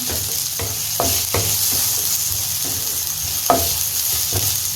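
Onion, tomato, garlic and grated coconut sautéing in a pan for a fish curry masala, a loud steady sizzle with several spatula scrapes and taps, close up and without speech.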